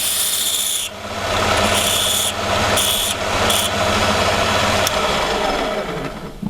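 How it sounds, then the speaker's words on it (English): A chisel scraped along a model ship cannon gives a continuous rasping, rubbing sound in close, steady strokes with brief pauses, no voices. "Now he's running some sort of chisel along it."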